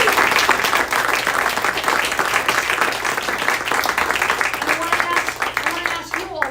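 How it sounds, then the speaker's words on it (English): A seated audience breaks into another round of applause, loud and dense with crisp individual claps, carrying on for several seconds before thinning and fading toward the end. "give them another round of applause"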